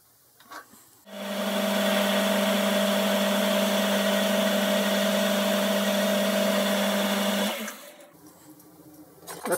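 A lathe machines the point of a revolving centre, its compound slide set at 30 degrees: a steady, loud whirring drone with a strong hum starts after a second, holds evenly for about six seconds, then cuts off.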